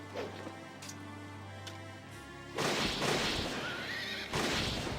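Video game horse whinny from Fire Emblem Radiant Dawn, a loud rising neigh over game music and impact effects, followed by bursts of battle sound.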